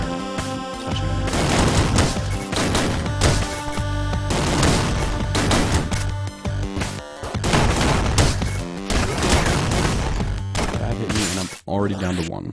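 Rapid gunfire from the video game Downwell, dense continuous bursts of shots mixed with crashing effects and loud game music, nearly unbroken for the whole stretch.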